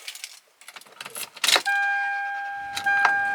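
2004 Toyota Sequoia Limited 2WD starting up close by: keys jangle and click, a short crank, then the engine settles into a steady hum with faint chimes, and no talking.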